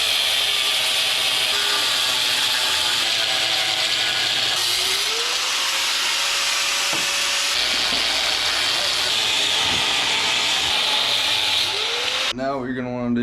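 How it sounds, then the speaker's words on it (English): An angle grinder cuts metal into sections while building a gantry crane, a loud continuous grinding whine that shifts in pitch as the disc bites, close up throughout. "And I'm just using an angle grinder to cut it."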